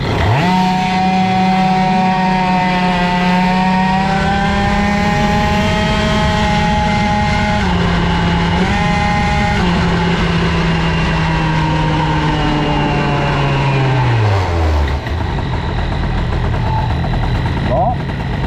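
A moped with an Airsal CPI 70 cylinder and a Tecnigas Mecaboite exhaust pipe revs hard and close, holding a high buzzing whine with brief dips before the pitch slides down and fades.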